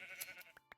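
A few short bleats from sheep in Minecraft, heard in brief bursts over a quiet game background, with no talking.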